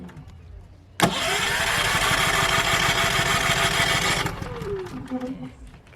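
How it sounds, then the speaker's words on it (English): A Champion 3400-watt inverter generator cranks on its electric start and catches, then runs as a loud, steady close-up engine drone for about three seconds before settling to a lower, uneven idle. "Electric start, press and hold the ignition switch to the start position."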